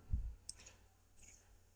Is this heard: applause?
no